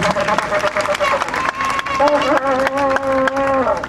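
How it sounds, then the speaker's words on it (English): Applause at a Biafra government ceremony on November 26, 2020 runs for a few seconds under music with sustained tones, steady crowd clapping filling the background. "A round of applause for him too."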